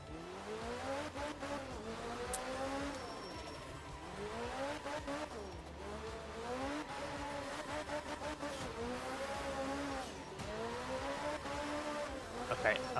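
Rally car engine in the Art of Rally video game, driving a Japan stage with damage, revving and shifting in rising and falling sweeps with tire noise and impacts, steady and loud throughout, with a voice talking over it.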